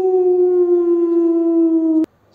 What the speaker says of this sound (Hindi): ये तो कुत्ता था।